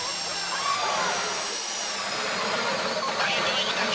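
Heist drill boring into a bank safety deposit box in GTA V, a steady grinding whine that holds throughout at close range with faint background voices.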